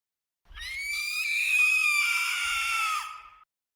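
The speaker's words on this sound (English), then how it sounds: "The rabbit screamed, a shrill, phlegmy wail, so loud I have to slap my hands to my ears" A rabbit lets out a shrill, phlegmy wail, one sustained high scream lasting about three seconds that rises and wavers, loud and alone against silence.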